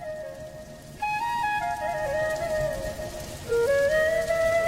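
Rain falls on a rainy day in a cartoon as a continuous patter under a wavering tonal melody, growing louder partway through.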